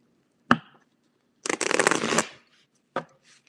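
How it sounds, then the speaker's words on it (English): Tarot cards being shuffled by hand on a humid day, slightly sticky: a single tap, then a dense riffling shuffle lasting about a second, then another soft tap, close and clear with no talking. "I'm going to shuffle."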